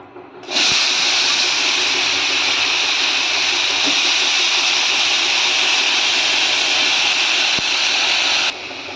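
Washed brinjals dropped into hot oil with turmeric and salt, bursting into a loud, steady sizzle that holds evenly for several seconds before cutting off.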